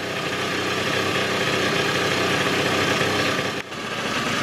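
A two-stroke Rexy 50 moped engine, started after sitting 13 years, idles with a steady, continuous buzzing putter close by, then dips briefly near the end before picking back up.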